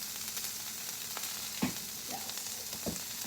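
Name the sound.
breakfast frying in a nonstick pan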